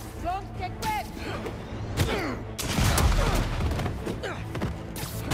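Rockets fired during a fight in Marvel's Spider-Man 2, heavy booms and thuds layered among shots and impacts, with voices talking over the combat.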